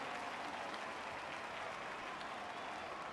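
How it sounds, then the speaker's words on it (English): Steady, dense crowd cheering and applause from a simulated racing game crowd at a Mexico round, a continuous loud wash of noise with no breaks. "the crowd is going absolutely wild here"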